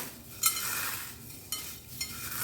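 Dry cornflakes crushed by hand in a kitchen while making chicken burgers, a close, steady papery crackle and rustle with a few sharper crunches, no voices.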